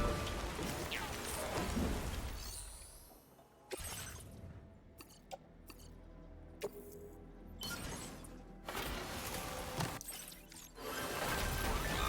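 Rain in a video game: a hiss of falling rain that swells in broad bursts, drops away into quieter gaps, then returns, fairly faint overall.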